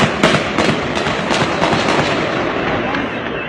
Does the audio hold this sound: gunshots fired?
yes